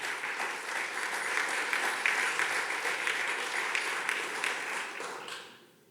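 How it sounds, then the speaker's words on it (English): Audience at a breakfast event with a public schools chancellor breaks into sustained hand clapping, dense and even, then fades out at the end. "the hand clap is nice"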